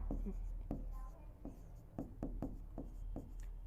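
A pen writes on paper while a maths practice-paper problem is worked out. The short scratchy strokes come close and crisp in an irregular rhythm, with a soft background hum.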